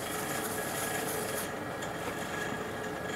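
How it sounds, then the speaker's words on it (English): Steady, close abrasive rubbing as wax is removed and cured epoxy scuffed on a wooden tankard; one continuous hissing scrape with a brief change in texture partway through, and no talking. "removing a bit of this wax and scuffing up the epoxy so I can epoxy the handle"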